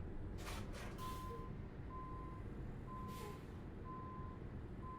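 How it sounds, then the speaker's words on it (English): A truck's reversing alarm in Euro Truck Simulator 2, a regular series of evenly spaced single beeps sounding over a low, steady engine rumble, with a couple of brief hissing bursts. "Why can I hear reversing from a truck?"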